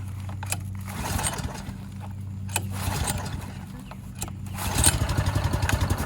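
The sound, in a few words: boat motor being choked and started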